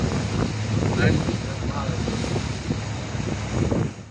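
An abra water taxi crosses the creek at night in Dubai's old city, with steady engine and water rumble, strong wind buffeting the microphone throughout and voices talking faintly over it.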